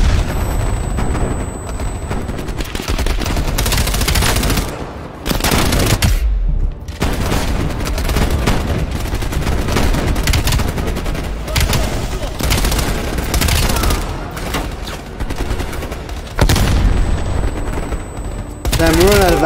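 Loud, dense automatic gunfire in Call of Duty Cold War, near-continuous rattling bursts with heavy booms and brief pauses, close and intense, with a voice speaking at times over the shooting.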